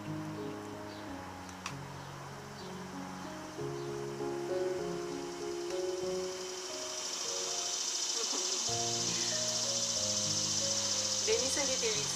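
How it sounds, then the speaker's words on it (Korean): Cicadas buzz in a sesame leaf garden, a faint high shimmering drone that swells in the second half while a voice talks intermittently in the foreground. "매미 소리 들리죠?"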